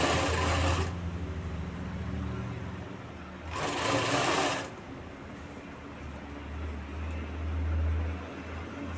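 Sewing machine stitching a band onto a garment neckline, its motor running in bursts: two sharp, bright runs of rapid stitching separated by lower, quieter whirring, close up with no voices.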